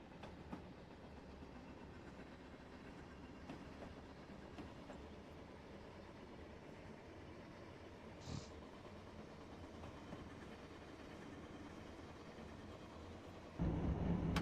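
A train in a railway video game runs at full throttle on a four-track main line, giving a steady rumbling, clattering drone throughout that grows slightly louder near the end.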